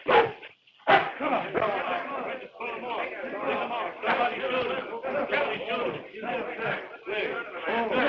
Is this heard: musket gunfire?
no